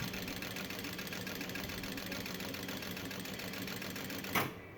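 A Juki DU-1181 industrial sewing machine runs slowly on a servo motor, giving a steady faint rhythmic whirring and ticking, ending with a brief clunk.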